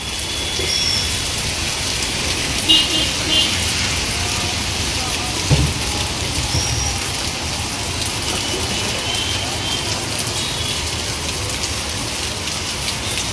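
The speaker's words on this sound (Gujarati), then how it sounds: "છેલ્લા 2 થી 3 કલાકથી નોનસ્ટોપ મેઘરાજા વરસી રહ્યા છે" Heavy, unbroken rain pours down at a street crossroads in Vadodara, a dense steady hiss filling the whole stretch, with a few faint knocks and traffic rumble underneath.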